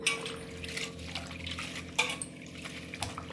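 Curry leaves are washed by hand in water, with continuous close splashing and dripping, light clinks of a vessel and a few sharper sloshes.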